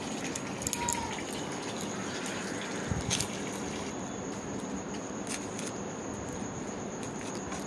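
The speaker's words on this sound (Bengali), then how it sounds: "আর এদিকে আমি জলগুলোকে ভরে নিচ্ছি।" Water gushing from a tap into containers at home, a steady splashing rush running throughout with a few brief knocks.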